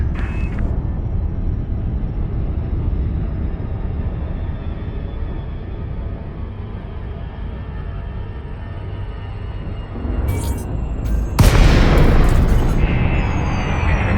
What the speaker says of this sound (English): The frameshift drive is disengaged.